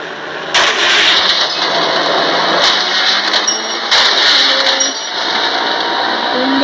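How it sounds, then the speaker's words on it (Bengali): A car engine drones steadily while driving in the mobile game Indian Bike 3D, a continuous loud hum with a few brighter surges and clicks layered over it. "শুধু চালাচ্ছি আমি একটা গাড়ি"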